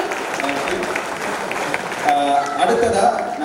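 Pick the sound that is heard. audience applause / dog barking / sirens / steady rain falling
audience applause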